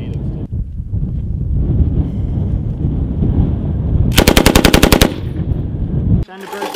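Machine gun firing during a US military training exercise, a single rapid burst of about ten sharp shots partway through, preceded by wind buffeting and low voices and followed by a sudden quieter stretch.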